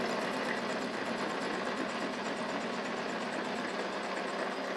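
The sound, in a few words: magneto spinning at 500 rpm on test stand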